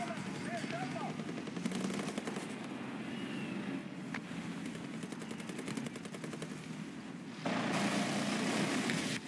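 Gunfire in a War Thunder tank battle with a CV 90105, rapid rattling bursts of automatic fire over a constant engine rumble, with a louder stretch near the end.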